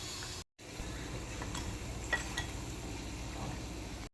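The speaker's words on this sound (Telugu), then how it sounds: "రెండు వైపులు కూడా బాగా డీప్ ఫ్రై అయిపోయినాయి." Crispy urad dal vadas deep-fry in hot oil, giving a soft, steady sizzle with a few faint utensil clinks, quiet and close, without talking.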